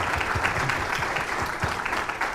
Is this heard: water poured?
no